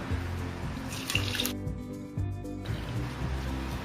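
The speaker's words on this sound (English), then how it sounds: "Here I have a colander lined with the cheesecloth. I'm going to add this mixture." Curdled milk and whey poured into a cheesecloth-lined colander for rasgulla, a steady running liquid splash with brief drips and a short pause midway, close and fairly loud with no talk.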